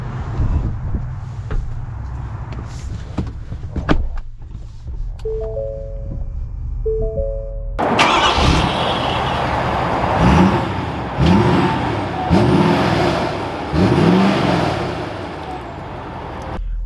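A new Ford F-450 Black Ops pickup with a chime sounding inside the cab, then the big engine cranks and catches into a loud idle and revs in repeated surges as it pulls away, heard from within the cab.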